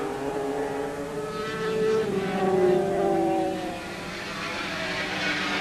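Racing motorcycles at the 1984 Silverstone 500cc Grand Prix, including a Honda NSR500 and a Suzuki, scream past as a steady engine roar that swells and fades over about two seconds before settling back to a distant drone.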